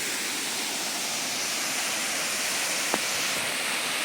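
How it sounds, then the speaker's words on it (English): A forest waterfall rushes in a dense, steady roar that fills the space. The sound is loud and continuous, with a single faint click partway through and no voices. "this is a checkpost, and you can hear the water"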